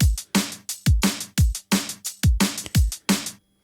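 Layered hi-hat samples ride a liquid drum and bass beat, bright steady ticks over punchy kicks and snares in a loud, tight, repeating loop with no voices.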